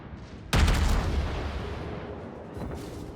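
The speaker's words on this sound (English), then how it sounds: "So I'll just turn my guns towards the Atago and probably try to finish her off." Heavy naval gun salvo from the cruiser Prinz Eugen firing at the Atago in World of Warships, a sudden loud boom followed by a long rumbling decay and a second softer swell near the end.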